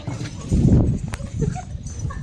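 A mare's hooves clip-clop during a horse ride, giving a few irregular thuds at close range, mixed with rustling and bits of nearby talk.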